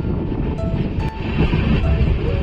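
A Konkan Railway Ratnagiri passenger train runs along, a steady rumbling clatter of wheels and carriage noise heard from on board, with brief faint tones above the drone.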